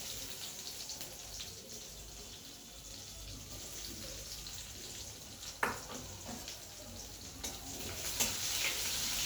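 Chopped onion frying in a pan while cooking a katla fish curry with potato and pointed gourd, a steady soft sizzle with stirring clatter and a few sharper scrapes, no talking.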